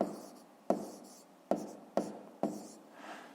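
Handwriting on paper during a fifth-grade maths problem: five sharp pen strokes at uneven intervals, each trailing off in a soft scratch, ending with a gentler rubbing sound, close up and quiet.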